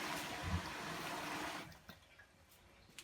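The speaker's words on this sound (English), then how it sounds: "there's the water coming in" Water rushes into a Bosch Classixx 6 Varioperfect washing machine with a motor fault, a close, steady hiss that drops to a quieter trickle with faint knocks after about a second and a half.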